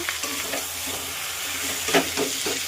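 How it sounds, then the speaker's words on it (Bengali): Mutton kasha stir-frying in hot oil in a pan, a steady close sizzle with scraping stirs and a brief louder burst near the end; no voices. "এটা সুন্দর করে কষিয়ে নেব"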